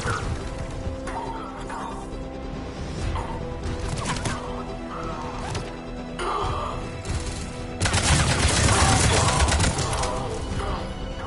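Gunfire at a checkpoint in Mass Effect 3, a dense mix of shots and crashes in steady combat noise that swells louder near the end, with voices over it.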